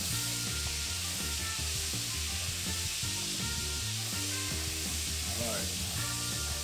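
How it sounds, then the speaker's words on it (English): Potatoes and onions fry in margarine in a pan, giving a steady, even sizzle throughout with no talk over it. "we're gonna use about 3 to 4 tablespoons of margarine in here too"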